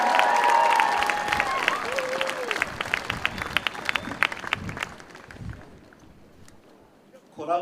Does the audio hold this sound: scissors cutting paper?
no